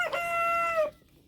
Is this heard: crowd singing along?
no